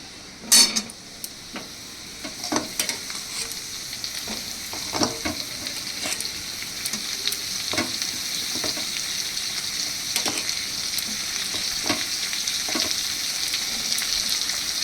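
Paneer stirred and fried in a pan with sago pulao, a steady sizzle rising gradually under intermittent spoon scrapes and metallic clinks, close and without talking.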